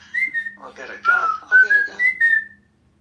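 A person whistles a short melodic phrase of several clear, sustained notes, close and alone in a quiet room, lasting about two and a half seconds before fading out.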